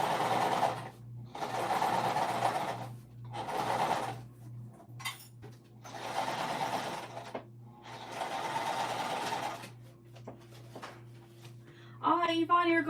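Sewing machine stitching through a thick cork crossbody bag, running in several loud bursts of rapid stitching separated by short pauses, with a steady low hum underneath.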